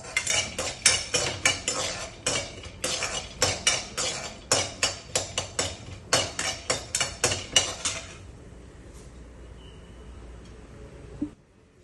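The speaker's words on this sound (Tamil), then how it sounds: "கொஞ்சமா நெய் விட்டு வறுக்கிறேன்னா" Peanuts roasting in a little ghee in a pan, stirred with a metal spoon that clatters in quick, rhythmic scrapes and taps for about eight seconds before the stirring stops and a quiet background remains.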